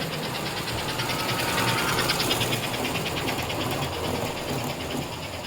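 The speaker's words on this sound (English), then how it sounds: "I don't know if you caught that little bit of a hum, but this engine will actually wind out way further than it probably should" A 1954 American Flyer #287 Pacific model train locomotive runs fast, giving a steady, close mechanical whirr and rapid rhythmic clatter with a high motor hum throughout.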